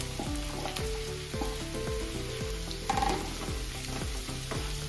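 Sliced onions sizzle in hot oil in a pan, the steady frying hiss broken by repeated scraping strokes of a spoon stirring them, close and continuous with no talking.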